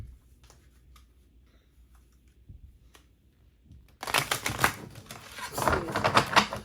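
Tarot cards being shuffled by hand after a quiet stretch, a dense run of crisp, papery riffling and patter that stays close and fairly loud until the end.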